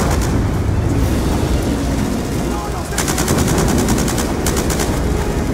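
Rapid automatic gunfire from Call of Duty Black Ops 2, loud and sustained bursts with heavier volleys midway, over constant battle noise.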